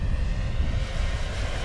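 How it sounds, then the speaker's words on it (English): An E-flite DRACO 2.0 RC airplane makes a full-throttle pass into the wind, its engine holding a steady, loud, buzzing drone throughout with no speech. "That's a full throttle pass"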